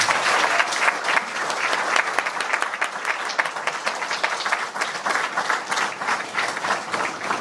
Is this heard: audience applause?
yes